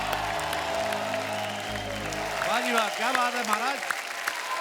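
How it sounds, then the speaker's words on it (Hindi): Studio audience applauding on a comedy talk show as a guest walks on, steady loud clapping filling the room while someone speaks warmly over it. "जोरदार तालियां हो जाए"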